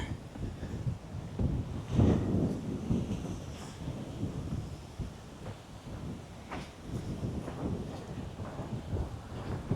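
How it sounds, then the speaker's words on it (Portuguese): Strong gusty wind buffeting the microphone on a coastal trail at Arraial do Cabo, a low roaring rumble that rises and falls with occasional sharper gusts. "Ó, tá ventando muito aqui, hein?"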